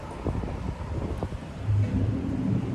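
Cold wind blowing outdoors in a downtown city street, a steady low rumbling gust buffeting the microphone with some distant traffic noise underneath, growing stronger toward the end.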